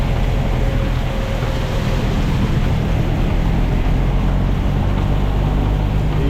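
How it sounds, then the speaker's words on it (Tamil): A storm in Jaffna drives heavy rain and strengthening wind into a loud, unbroken rushing roar with steady buffeting. No voices break through. "இப்போ இவ்வளோ நேரம் வந்து மழை மட்டும்தான் பெய்து கொண்டிருந்தது இப்போ காற்றும் கொஞ்சம் அடிக்க தொடங்குது"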